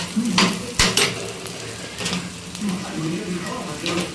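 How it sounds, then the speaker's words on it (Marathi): Roughly chopped onions frying in a pan as they brown, a soft sizzle broken by scraping stirs and spatula clinks on the pan, close and moderate in level. "कांदा आता लालसर होतो आहे म्हणजे भाजत आला आहे"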